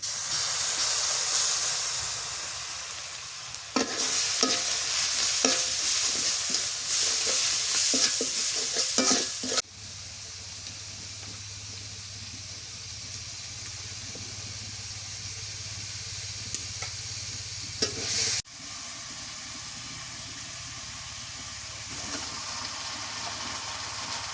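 Onion and garlic paste sizzles and hisses loudly in a hot pan while being stirred. The intense crackle drops suddenly to a quieter, steady fry, then a brief clatter follows, with no voices.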